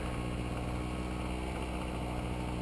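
Steady, loud multirotor drone motors and propellers of a DJI 550 whir continuously as the craft slowly descends at just under half throttle, with no voices.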